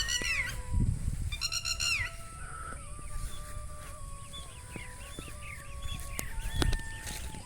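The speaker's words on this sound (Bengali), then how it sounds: "কত সুন্দর পাখির ডাক" Several birds calling near hills in a calm natural outdoor setting: repeated chirps and short whistled notes over faint ambient noise, with a couple of louder nearby calls.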